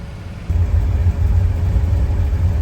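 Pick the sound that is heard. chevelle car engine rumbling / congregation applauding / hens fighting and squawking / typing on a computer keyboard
chevelle car engine rumbling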